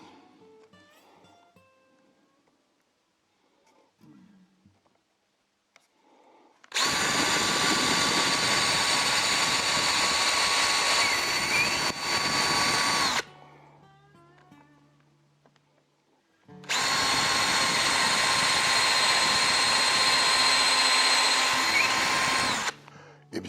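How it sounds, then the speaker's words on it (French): A power drill bores holes in a guitar side bender jig, two long loud steady whining bursts of several seconds each, separated by quiet handling sounds in a workshop. "Et là on peut percer."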